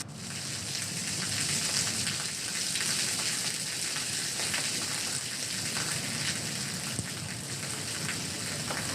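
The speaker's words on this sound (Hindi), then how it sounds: "जरा बारिश की आवाज सुनिए आप।" Steady rain falling in Karachi, a dense, even hiss of drops on surfaces that continues without a break, fairly loud and close, with no talking.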